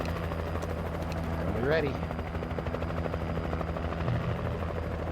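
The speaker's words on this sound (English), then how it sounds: "I gotta say, life is so much better with a support helicopter." Support helicopter in the video game Alan Wake, a steady rotor drone with chopping throb underneath, a brief whooshing sweep midway, and someone talking over it.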